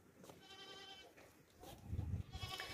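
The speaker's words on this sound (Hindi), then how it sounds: "बहुत ही खूबसूरत बकरा है माशाल्लाह से।" A two-toothed male goat for sacrifice bleats faintly at a livestock sale in Pakistan, with a couple of wavering calls over a low, muffled background.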